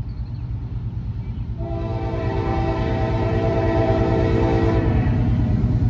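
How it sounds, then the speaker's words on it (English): A slow westbound Norfolk Southern coal train passing at Stanley Road: a loud, steady rumble of rolling cars with a whining tonal hum building in the middle, close and continuous throughout. "And it's a coal train."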